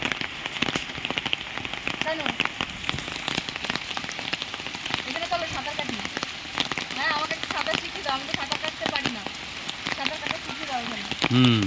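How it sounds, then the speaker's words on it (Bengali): Heavy rain pours onto a home courtyard where water has pooled, a dense steady patter with sharp drip clicks while a voice talks over it. "কমার দরকার নেই, বৃষ্টি হোক।"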